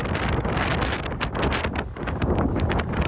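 Strong gusting wind from typhoon outer circulation combined with an intensifying northeast monsoon in Taichung and Miaoli, roaring and buffeting the microphone continuously with surging gusts throughout.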